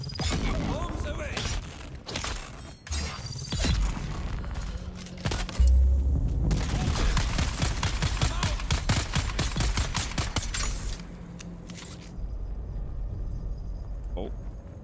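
Bombs and rapid gunfire in the video game Dune Awakening, with dense bursts of shots and blasts running through most of the stretch, loud and close, while a player talks over parts of it.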